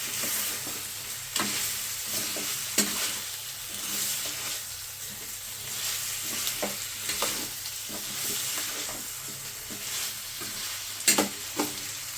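Bitter gourd curry frying in a pan being stirred after salt goes in, a steady sizzle punctuated by repeated scraping spoon strokes every second or so, close and clear with no one speaking.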